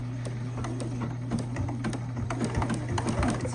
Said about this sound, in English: So if I'm going to do a zigzag stitch, choose a zigzag on my machine